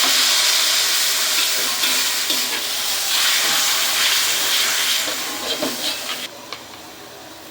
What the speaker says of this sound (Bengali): এখন দিয়ে দিলাম পরিমাণ মতো পানি মশলা দেওয়ার জন্য।